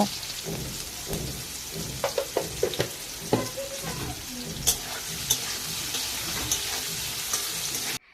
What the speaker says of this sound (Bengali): এখানে আমি আলুটাকেও একইভাবে ভেজে নেব